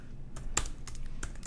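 Keystrokes on a computer keyboard while typing a website description, a handful of separate light clicks spaced irregularly across a quiet room, one sharper tap standing out.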